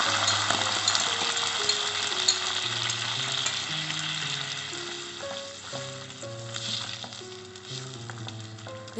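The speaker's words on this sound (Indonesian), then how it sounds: "Dengan api sedang, masak hingga saus agak mengental atau menyusut." Steady sizzling and bubbling of sauce with garlic reducing over medium heat in a hot frying pan, continuous and close, with soft music playing underneath.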